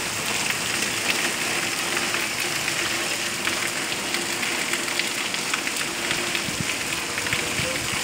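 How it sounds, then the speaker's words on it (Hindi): Heavy rain pours down outdoors in a steady, dense hiss that fills the whole stretch at an even level, with no voices standing out. "बाहर भी बहुत ज़्यादा बारिश है,"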